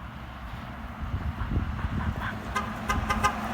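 A big truck's horn honks a rapid series of short toots, several distinct blasts in quick rhythm over steady road traffic noise, fairly close and loud.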